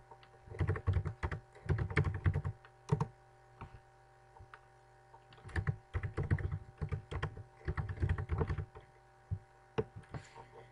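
Rapid clattering keystrokes on a computer keyboard in several bursts separated by short quiet gaps, close and fairly soft, with no voices.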